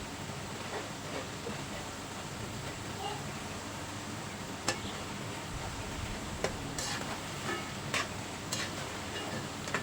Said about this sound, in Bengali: একটু সময় নিয়ে ভাজতে হবে, তাহলে অনেকটা মুচমুচে হবে, একদম দোকানের মতো।